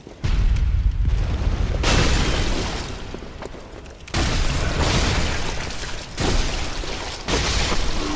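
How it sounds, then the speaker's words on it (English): Cannon fire in the video game Bloodborne lands in heavy booming blasts, several loud explosions spaced a second or two apart with rumbling decay between, and no talking over them. "Watch the cannon, dude."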